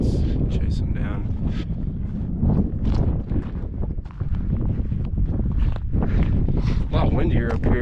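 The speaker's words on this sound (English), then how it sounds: "A lot windier up here" Strong wind buffets the microphone high in the mountains of a wilderness area, loud gusty rumbling that stays constant, with brief dips and faint scuffing in between.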